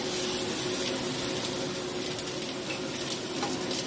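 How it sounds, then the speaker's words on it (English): Chopped onions sautéing in a pan for homemade salsa, giving a steady, even sizzle that holds at a constant level close by, with no voices over it. "I'm just going to saute my onions like this until they get a little translucent."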